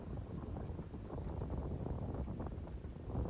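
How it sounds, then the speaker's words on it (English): Outdoor wind on a hot, humid day rushes and buffets steadily against the microphone, a continuous low roar with no pauses. "Lately, the wind has been picking up"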